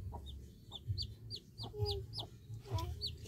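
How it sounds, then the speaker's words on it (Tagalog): Newborn baby chicks peep in high, repeated descending chirps, with lower clucking from nearby fowl and faint voices in the background. "Chicken."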